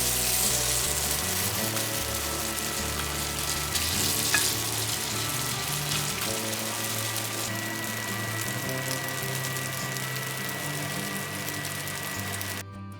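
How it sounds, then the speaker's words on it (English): Tofu patties fry steadily in a pan, giving a continuous, fairly loud sizzle that holds evenly for the whole stretch with no voices over it. "Flip the patties when they're brown on one side."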